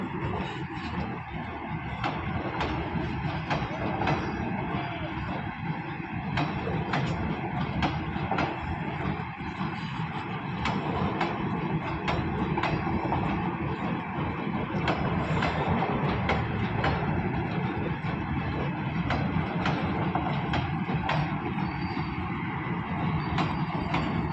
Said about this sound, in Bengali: তো আমাদের ইন্ডিয়ার ট্রেন বাংলাদেশে ঢুকে গেল।